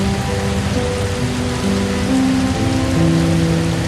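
Steady rain pours on a Costa Rican rainforest canopy at midnight, a dense, even hiss close around a treehouse, with low tonal hum threads woven through.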